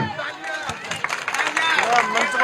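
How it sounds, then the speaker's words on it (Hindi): A crowd at a ward election support rally claps for a former councillor; quick, scattered clapping mixes with murmuring voices and background hubbub. "पहले भाई पूर्व पार्षद देवेंद्र भोला के लिए ताली बजा दो।"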